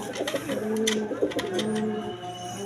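Several pigeons, including green-necked pigeons, coo softly and repeatedly nearby, their low throaty calls overlapping amid rustling and faint background murmur.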